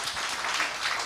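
A church congregation gives a short burst of steady, dense applause, moderately loud and filling the room, with no talking over it.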